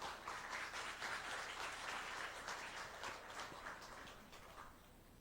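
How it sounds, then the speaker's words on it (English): Sustained audience applause fills a hall at a public forum and solidarity ceremony for Myanmar, with a steady dense clapping texture that slowly eases off toward the end. "please join me in giving a warm round of applause"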